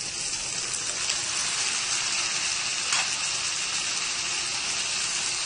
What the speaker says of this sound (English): And this I will saute till it becomes translucent. Now I add to this tomato.